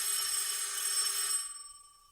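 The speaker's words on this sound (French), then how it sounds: "c'est le téléphone?" A telephone bell rings in a steady, continuous metallic trill at moderate volume for about a second and a half, then cuts off and leaves a faint fading tone.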